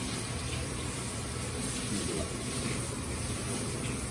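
Water from a hose pumped into a fish's kidney and blood vessels, a continuous even rushing flow, close and moderately quiet, no talking.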